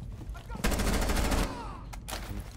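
Gunfire from the video game Rainbow Six Siege, a rapid burst of close automatic shots followed by a few sharper single cracks, moderately loud.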